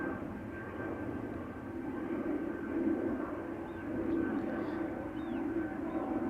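Air Baltic airliner departing from a runway at Amsterdam Schiphol Airport, a distant steady jet engine roar that swells slightly as it climbs away, with faint background noise.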